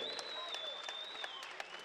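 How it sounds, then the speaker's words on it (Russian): An audience applauds the finalists at a combat sports championship bout, the claps faint and scattered beneath a sustained tone from the hall's sound system. "оба финалиста заслуживают ваших аплодисментов"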